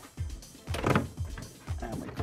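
Plastic-and-wood wardrobe door being clipped onto its hinges during flat-pack assembly: a few close, dull clunks and scraping clicks in quick succession, with no talking.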